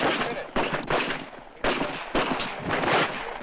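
Gunshots ring out on a shooting range, four sharp loud reports spaced roughly half a second to a second apart, each trailing off in a ringing echo.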